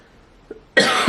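A single sharp cough bursts out close and loud, preceded by a faint throat sound, during a quiet indoor colour-pencil drawing session.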